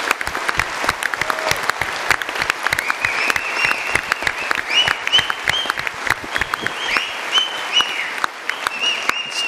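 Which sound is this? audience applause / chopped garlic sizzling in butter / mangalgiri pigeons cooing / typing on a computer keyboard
audience applause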